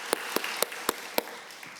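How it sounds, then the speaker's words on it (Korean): Welcoming applause from a Korean church congregation during Sunday worship, a handful of distinct, evenly spaced sharp claps over a low background murmur of the room. "다시 한번 환영의 박수 하도록 하겠습니다."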